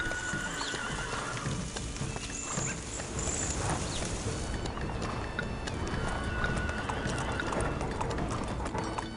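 Horses in a video game neigh and clip-clop across steady game background sound, the hoofbeats and whinnies coming and going at moderate distance.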